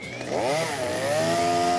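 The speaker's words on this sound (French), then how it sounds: "Pour la première fois, je vais tronçonner des arbres." A chainsaw engine whines and revs up while cutting trees, its pitch sweeping higher then holding steady, loud and close.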